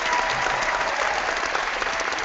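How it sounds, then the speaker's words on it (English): Audience applause fills the room, a steady dense wash of clapping from a crowd, loud and continuous throughout with no talking over it. "Proper applause."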